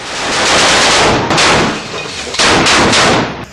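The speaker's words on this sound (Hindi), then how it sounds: "एक लड़ाका मशीन गन से आईडीएफ के ऊपर ताबड़तोड़ फायरिंग करने लगता है।" Machine gun fire from a fighter in close combat against Israeli forces in Jabalia, Gaza: loud, dense bursts of gunfire in two main volleys with a short break between them.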